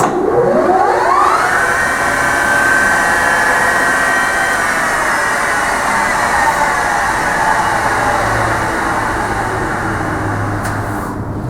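A Microweiley precision geared head lathe running at 2000 RPM spins up, then holds a loud, steady whine and hum close by with no talking.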